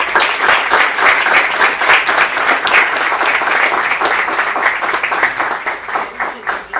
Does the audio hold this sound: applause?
yes